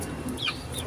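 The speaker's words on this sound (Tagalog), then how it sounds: "Alagang manok." Short, soft clucks from a pet hen at feeding time in the middle, over a steady background hum of farmyard noise.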